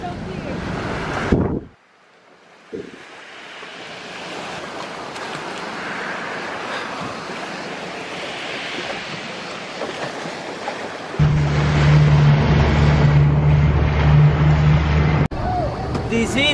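Waves and wind at Arienzo Beach in Positano, reachable only by boat, a loud steady wash of surf and wind buffeting, with a low boat engine hum joining toward the end.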